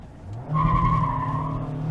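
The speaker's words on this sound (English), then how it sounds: "one last slide in the Miata" Mazda MX-5 Miata ND3 sliding, its tires letting out a sustained squealing skid over the engine's drone, close and loud for just under two seconds.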